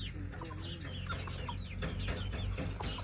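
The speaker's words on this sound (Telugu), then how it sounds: "ఈ కోడి చూడు, పెద్ద కోడి ఎట్లా తింటుందో ఈ పిల్ల." A hen and her chick cluck and peck while eating in a village yard, with soft clucks and chirps repeating close by over a steady low background hum.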